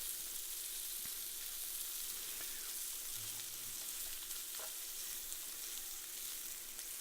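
Butter, garlic and soft chorizo fry in a pan with a steady, even hiss and crackle, close and continuous, with no voices.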